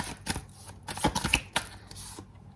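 Tarot cards being shuffled and drawn make close, crisp riffling bursts and flicks in quick irregular clusters, with a short pause near the end.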